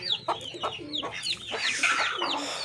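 Brooding hens sitting on eggs cluck and chatter close by in short, repeated rising calls, several overlapping in quick succession.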